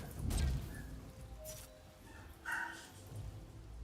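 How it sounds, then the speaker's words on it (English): An excited dog barking at a visitor, a handful of loud barks and yips in irregular bursts, somewhat muffled as if from another room, with no speech. "Someone's come over. The dog's very excited"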